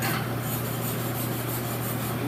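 Steady scraping and rasping as slag is cleaned off stick welds laid on a steel pad, a continuous close, moderately loud rubbing texture with a low hum underneath and no talking.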